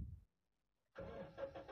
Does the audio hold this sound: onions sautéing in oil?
no